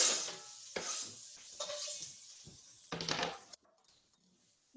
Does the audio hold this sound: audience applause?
no